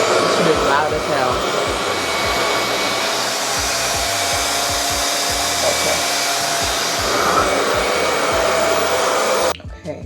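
A RevAir hair dryer roars loudly and steadily at close range, its harsh motor whine holding constant before cutting off abruptly at the end.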